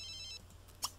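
An in-game telephone rings in The Sims 3, with a brief burst of electronic ringing toward the end of a short stretch of quiet background audio.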